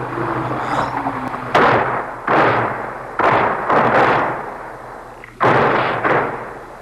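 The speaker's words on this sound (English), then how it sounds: "The Syrian guns opened fire first." Syrian artillery guns fire in the Golan Heights in old 1974 news footage: four or five loud, sharp booms spaced a second or more apart, each followed by a decaying rumble, with no voices.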